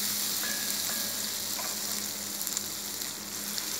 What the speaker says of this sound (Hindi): ये बटर जो है इसको थोड़ी देर के लिए हम मेल्ट कर लेते हैं